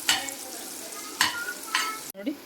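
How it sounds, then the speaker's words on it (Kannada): Ground masala paste frying in a pan for raw mango gojju, a steady sizzle broken by a few sharp scraping stirs of the spoon against the pan, close up and moderately loud. "ಹಾಕ್ಬಿಟ್ಟು 1 ನಿಮಿಷ ಚೆನ್ನಾಗಿ ಫ್ರೈ ಆಗಬೇಕು"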